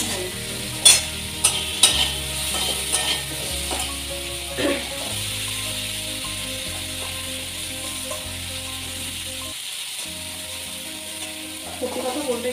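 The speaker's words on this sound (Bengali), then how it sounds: "প্রথমে শ্রিম্পগুলোকে ভেজে নিচ্ছি" Shrimp fry in a pan, their sizzle running under repeated scrapes and clinks as a utensil stirs them, with a few sharp knocks early on and a steady hiss after.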